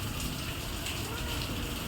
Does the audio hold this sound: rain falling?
yes